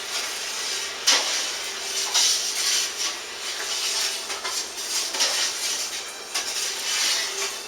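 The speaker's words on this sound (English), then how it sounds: "We're going to stir it until we get it all the way dissolved." Sugar being stirred into a batch of homemade peach wine, a steady scraping swish of a spoon against the vessel with occasional clinks, close and continuous throughout.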